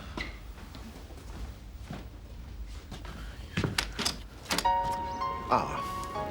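An interior door in an old house is opened and closed, giving a few soft thuds and a creak against quiet room tone, followed by brighter clattering and ringing tones near the end.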